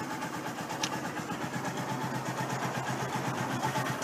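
A Zontes Monster motorcycle engine idling, a low, steady mechanical thrum with a fast regular pulse that runs unbroken and fairly quiet throughout.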